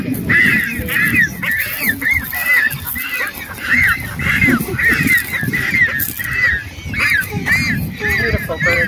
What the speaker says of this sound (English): a little video clip here of some of the chicks of the Magellanic penguins pestering mom